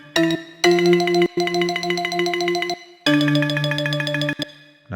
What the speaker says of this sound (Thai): ระนาด